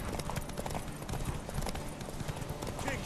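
Horse hooves clatter in a quick, steady clip-clop rhythm beneath dense background noise in The Witcher 3, and a voice speaks briefly.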